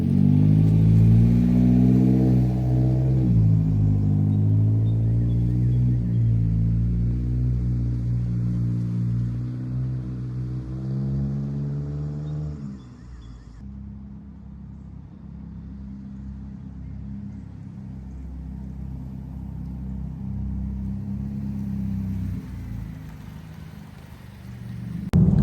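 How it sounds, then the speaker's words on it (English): Inside a Toyota Corolla E210 on the move, a low engine hum and steady road roar fill the cabin. The engine pitch climbs and falls as it accelerates and shifts, then settles into a constant drone. "Road noise is pretty loud."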